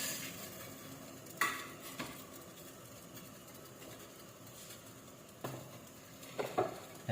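Shrimp go into a pot of simmering creamy tambo soup with bamboo shoots and are stirred, giving faint bubbling and a few soft spoon scrapes and clinks against the pot.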